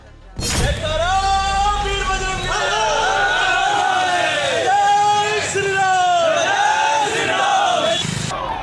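Large agitated crowd gathered outside a house in Khatima after a murder, loud shouting and chanting voices rising and falling in waves, close and continuous for several seconds.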